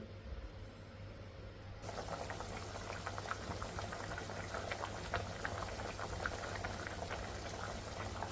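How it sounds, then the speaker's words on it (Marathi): Curry gravy for a fish dish simmering on a medium flame, a steady bubbling and popping that starts after a quieter opening and continues evenly, close and moderately quiet. "आता मस्त उकळून घेते भाजी पाच ते दहा मिनटं ना असं मीडियम फ्लेमवर छान उकळून घ्यायची"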